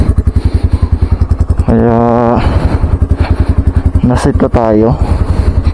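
Loud motorcycle with an open muffler on a loud pipe, its engine pulsing in a rapid steady idle, then revving up hard twice in long rising bursts, close by, with someone speaking over it.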